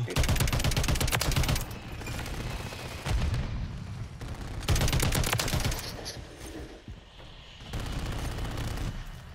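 Gunfire in the Call of Duty MW3 video game: dense, loud bursts of rapid automatic fire and booming impacts in heavy waves, with brief lulls between volleys and no talking over it.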